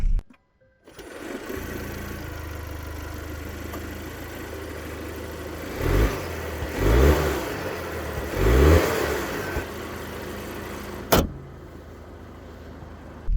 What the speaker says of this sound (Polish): Tak ten silnik brzmi.